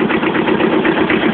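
An old Kubota tractor engine runs just after a cold start, a loud, close, steady chugging idle with a rough knocking pulse.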